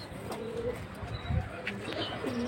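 Pigeon cooing from a female high-flying pigeon at a pigeon sale, soft low coos repeating close by over a steady background hiss, with faint chirps from other birds.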